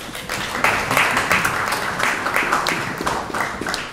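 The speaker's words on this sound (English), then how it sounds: "give them a big round of applause" An audience claps for presenters with a dense, even round of applause from many hands at moderate loudness, holding steady for a few seconds.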